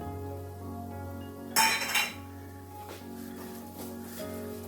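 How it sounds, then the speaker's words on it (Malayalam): Green chillies and curry leaves go into a pan of sautéing onions: a short metallic clatter of utensil against the pan, about half a second long, rises over a steady low kitchen hum, followed by faint scraping. "ഇപ്പം ഞാനിവിടെ ഒരു 3 ചെറിയ പച്ചമുളകും കുറച്ച് കറിവേപ്പിലയും കൂടി ഇതിലേക്ക് ഇട്ടു കൊടുക്കും."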